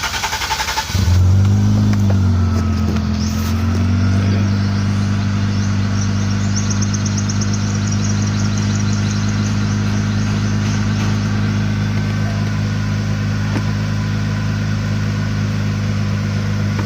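A car engine cranks and starts after a fuel pump and filter repair, settling into a loud, steady idle with a brief rev early on, close and continuous.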